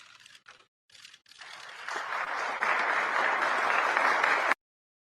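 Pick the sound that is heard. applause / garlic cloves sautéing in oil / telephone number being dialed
applause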